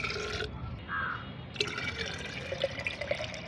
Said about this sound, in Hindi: तो मैं इसमें ये पानी मिलाती हूँ।